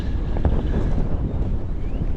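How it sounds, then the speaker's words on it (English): Strong wind buffets the microphone in loud, rumbling gusts with no pauses near a river at San Juan del Sur, Nicaragua, and no voices are heard. "It's very windy today."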